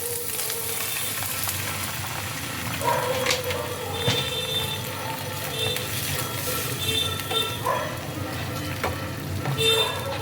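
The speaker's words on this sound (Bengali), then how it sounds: "জলটাকে ভালো করে মিশিয়ে নিচ্ছি" A chilli cheese corn mixture seasoned with chilli powder being stirred in a pan after a little water is added, with a continuous sizzle and bursts of scraping and clinking from the spoon.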